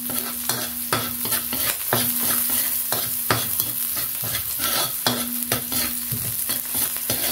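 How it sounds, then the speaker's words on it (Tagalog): Onion and garlic sauté in a pan for a ginisang kalabasa with patola and misua, giving a steady close sizzle broken by repeated scraping stirs of a spatula, with a faint low hum underneath. "sibuyas at bawang hanggang sa mag-brownish na siya at mag-translucent na yung ating sibuyas"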